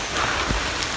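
Heavy rain pours steadily on a forested mountain trail on Mount Ungaran, a dense, even hiss with a few nearby drops spattering close by.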